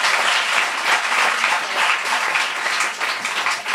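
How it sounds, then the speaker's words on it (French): An audience at a LiveMentor business talk applauds continuously, a dense, bright wash of many hands clapping at steady, even strength for several seconds. "On applaudit Marjolaine Grondin"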